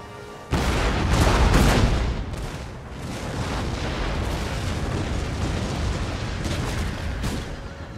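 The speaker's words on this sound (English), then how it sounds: "Another round of artillery is coming in." Artillery shells and round shot landing in Empire: Total War: a sudden loud blast opens, followed by a dense, rolling barrage of booms and rumbling that stays heavy and continuous to the end.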